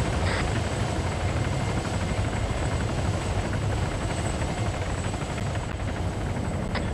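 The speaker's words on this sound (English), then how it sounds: "Incoming helo. Enemy helicopter in front." A helicopter in the video game Arma 3, its steady rotor drone filling the whole stretch, loud and continuous, with a faint high whine running above it.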